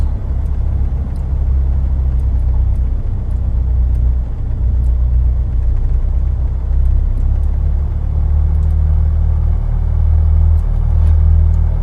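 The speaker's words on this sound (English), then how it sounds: "engine run-up test" Diamond DA40 piston engine run-up in a flight simulator game, a steady loud low droning rumble that holds constant and builds slightly toward the end, with no talking.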